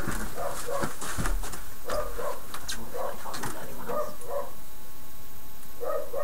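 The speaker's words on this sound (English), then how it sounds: "I should probably go check on the puppies. Why they're barking." Several puppies bark repeatedly in bursts, overlapping yaps and barks at a moderate distance with steady background noise throughout.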